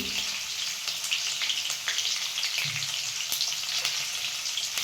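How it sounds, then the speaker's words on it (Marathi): Mustard seeds, cumin, curry leaves, green chilli and garlic sizzle in hot oil as a tempering for Marathi dal, a steady close crackling hiss with scattered pops and no talking. "मस्त आता फोडणी करून घ्यायची आपल्याला वरणाला."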